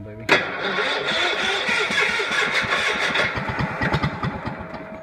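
Engine cranking and catching after a jump start in cold weather on a welding cart setup, a sharp start followed by an uneven, sputtering mid-pitched idle that gradually settles into rhythmic chugging pulses, close and loud.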